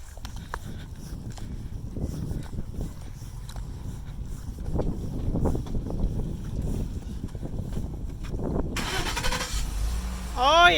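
A truck engine cranks and starts outdoors at the Grand Canyon on a rainy day, rising near the end over wind noise and a steady background rumble, with voices briefly audible.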